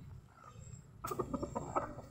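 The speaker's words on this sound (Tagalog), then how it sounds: "yan alaga natin yan manok bali apat tong mga alaga kong manok" Four backyard chickens cluck in short, close bursts after a second of quiet farmyard murmur, with no voices present.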